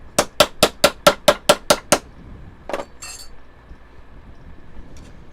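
Spoons hammered flat on a metal surface, about nine sharp, ringing metallic strikes in a quick steady rhythm, close and loud, followed by a couple of fainter clinks and a quiet pause.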